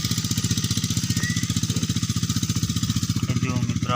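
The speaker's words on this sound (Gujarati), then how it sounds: "અહીંયા આપણે મિની ટ્રેક્ટરનો અવાજ આવે એટલે ચોખ્ખું નહીં સંભળાય" A mini tractor engine pulls an automatic seed drill while sowing fertilizer in a cotton field, throbbing steadily with a fast, even chug that stays loud throughout.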